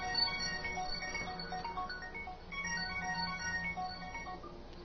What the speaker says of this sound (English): sorry, my phone.